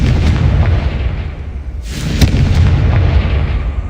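A Confringo blasting spell explodes in the Hogwarts Legacy video game, a loud, continuous roaring boom followed by a brief dip and a second sharp burst that rumbles on.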